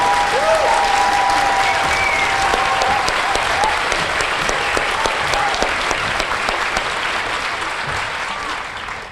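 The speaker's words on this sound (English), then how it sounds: "Please join me in a round of applause for our drill sergeants," A crowd at a basic training graduation applauds drill sergeants, soldiers and cadre with loud sustained clapping and a few faint whistles early on, slowly tapering toward the end.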